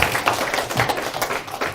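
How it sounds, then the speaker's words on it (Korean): A church congregation at Incheon Pilgrim Church claps together in a brief, dense burst of applause that fills the room at moderate loudness, with no talk over it. "힘내라고 박수 한번 치고."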